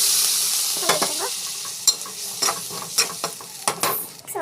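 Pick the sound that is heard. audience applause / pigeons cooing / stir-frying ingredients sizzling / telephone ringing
stir-frying ingredients sizzling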